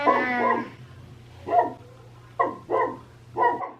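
A black Labrador barks four times nearby, the first bark drawn out into a whiny yelp and the rest short and gruff, over a low steady indoor hum.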